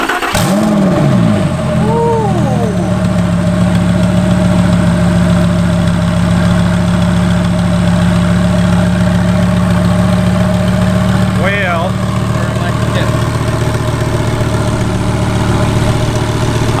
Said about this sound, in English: We're about to go start the car, and let's pray